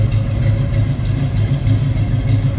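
Engine of a 1979 Chevrolet Malibu Coupe started and running, a loud, deep, steady rumble with a slightly lumpy pulsing idle and no talk over it.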